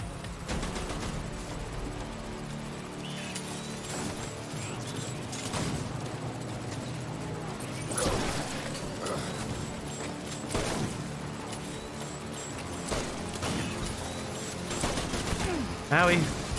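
Gunfire in the video game Death Stranding, sharp scattered shots and short bursts spread across the stretch, moderately loud over a busy game background.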